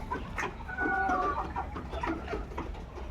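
White layer hen pullets on a poultry farm cluck in short, overlapping calls against a steady background of flock noise and farm ambience.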